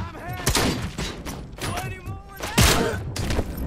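Double gunshots from a weapon in Robocop: Rogue City, a few sharp thuds spaced out and mixed with game effects, with someone talking over them.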